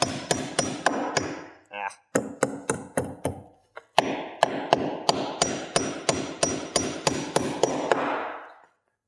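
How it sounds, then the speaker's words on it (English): A nail is hammered into a deck ledger board, a long run of sharp, loud, close hammer blows in a steady rhythm, briefly broken by pauses, with a short vocal grunt in one gap. "And drive that nail home."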